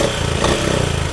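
A 2024 Honda CB 350 DLX motorcycle idles up close, its single-cylinder engine giving a steady, loud, even low thump throughout with no talking.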